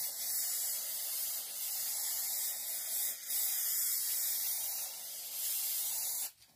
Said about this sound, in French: il faut que je mette de la colle en spray